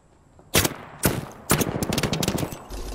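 Gunfire in the Apex Legends video game: three sharp, loud shots at roughly half-second intervals, followed by a rapid automatic burst that rattles on continuously.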